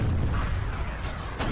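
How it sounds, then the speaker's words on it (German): A bomb explodes in a Skibidi Toilet animation: a dense, low rumbling boom rolls on throughout, then a sharper burst cracks out near the end, with no voices. "Und explodiert."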